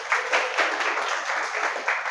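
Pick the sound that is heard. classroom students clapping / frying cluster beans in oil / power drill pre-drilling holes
classroom students clapping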